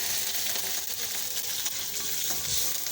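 Garlic, ginger and green chili paste frying in hot oil, giving a steady, close sizzle with soft bubbling crackles throughout and no voices.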